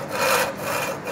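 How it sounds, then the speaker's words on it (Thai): A hand saw cutting through wood along a marked line, two rasping strokes in a back-and-forth rhythm, close and clear with no talking. "ผ่ากลางเส้นแล้วค่อยๆเลื่อย"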